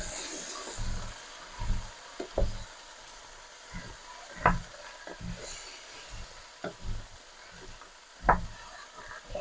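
Potatoes and mixed vegetables sizzle gently in a pan, with scattered scraping stirs and occasional sharp knocks of the utensil against the pan over a steady, fairly quiet frying hiss.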